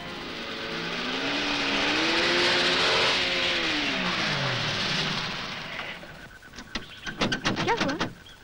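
A car engine revs in rising and falling harmonic sweeps, loud and close, then sputters and dies out, leaving scattered clicks and knocks.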